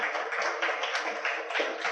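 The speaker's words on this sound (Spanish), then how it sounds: "Un aplauso, por favor, a todos ellos." Audience applause fills an auditorium at a public morning event, dense steady clapping from many hands at moderate level throughout, with no voices over it.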